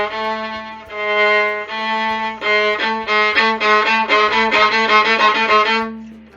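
A solo violin plays a bouncy, repetitive children's tune with quick repeated notes, rising in intensity before ending.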